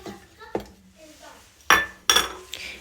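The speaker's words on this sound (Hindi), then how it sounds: "इसको डालूँगी मिक्सी में" Dried baheda fruit clatters into a steel mixer grinder jar, with sharp hard clinks and rattles, two loud bursts near the end, and softer handling sounds before.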